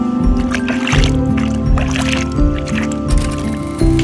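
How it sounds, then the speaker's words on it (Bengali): A mud-covered palm fruit being washed in a pond, with close, loud sloshing and splashing of water in repeated rhythmic swishes, and a low hum running underneath. "কাদা লেগে আছে, তাই পুকুরে ধুয়ে নেব।"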